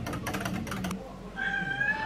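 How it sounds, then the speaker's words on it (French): A cat meows in a chatty stretch in the morning, its drawn-out cries close and clear after some brief earlier sounds, with someone speaking French nearby. "T'en as des choses à dire ce matin, mon chat?"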